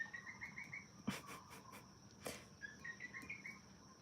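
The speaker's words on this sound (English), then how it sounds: "It's a coqui frog." Coqui frog calling, its repeated chirping notes in two short bursts of several calls each, fairly faint and outdoors, with a couple of sharp clicks or taps in between.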